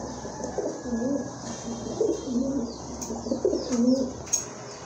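Pigeons cooing close by, repeated low rolling coos in a steady series with faint chirps and background noise around them.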